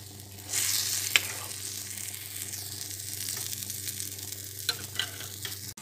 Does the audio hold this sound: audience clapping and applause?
no